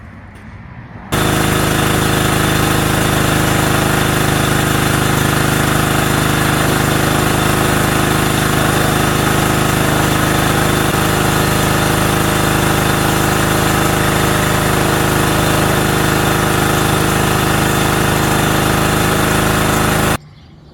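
A steady, loud engine drone runs continuously and unchanging for most of the clip, starting abruptly and cutting off at the end.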